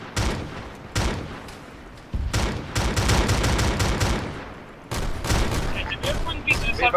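Gunfire in a Warhammer video game battle, with rapid bursts of shots and volleys crackling at close range across a noisy battlefield, pausing briefly before resuming in dense clusters, mixed with background game sounds and voices.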